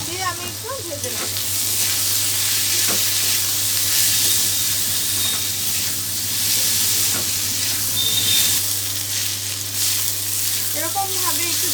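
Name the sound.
lentils frying with salt and turmeric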